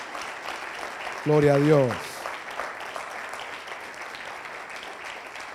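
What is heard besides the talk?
congregation applause in church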